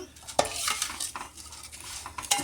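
Spoon scraping and stirring through fried vermicelli in a pan as powdered sugar and cardamom go in for kunafa, a run of quick close scrapes and clinks over a light sizzle.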